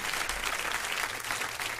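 A crowd applauding, dense continuous clapping that fills the whole moment, fairly loud and close.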